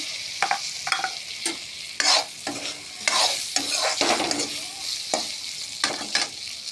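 A spatula stirs a spiced puti fish curry with tomato in a hot pan, giving sharp, irregular scraping strokes over a steady sizzle of frying, close up with no talking.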